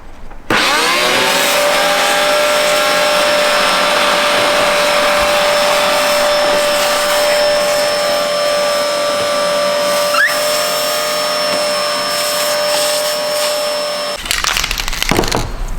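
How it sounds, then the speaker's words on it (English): A Hoover vacuum cleaner runs continuously while sucking up metal filings in a car workshop, a loud steady whine with harmonic hum and faint rattling bits, starting abruptly and cutting off near the end. "but either way, there is good reason why Ben is using the Hoover"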